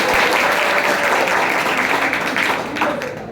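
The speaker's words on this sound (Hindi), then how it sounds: "इनके लिए शिक्षा की निशानी के लिए तो तालियां बजनी चाहिए" An audience applauds steadily at a prize distribution for the institute's 2023 toppers, dense clapping filling the room and tapering slightly near the end.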